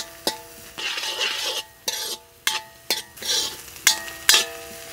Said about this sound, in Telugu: అలాగే పచ్చిమిర్చి, క్యారెట్, క్యాప్సికమ్ కూడా వేసేసుకుందాం. ఇదంతా 7-8 నిమిషాల పాటు బాగా వేయించుకుందాం.